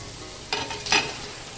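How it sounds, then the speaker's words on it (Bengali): Rui fish dropped into spice masala frying in a pan, giving two short sizzling bursts over a low background hiss. "মশলা কষানো শেষ। এখন মাছটি দিয়ে দিব।"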